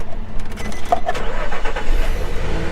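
An old Nissan car at a salvage auction lot cranks and fires up, with a quick run of starter pulses catching into a rough running engine, loud and close.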